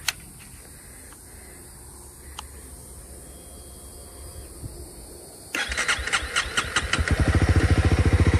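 A newly bought motorcycle cranks and fires up outdoors after a quiet stretch, then settles into a steady, close, throbbing idle that grows slightly louder.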